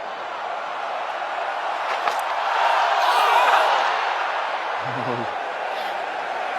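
A steady, diffuse roar from a partly filled crowd at a Lord's Test match between England and India in 2021 swells gently in the middle and holds as a continuous wash of distant voices.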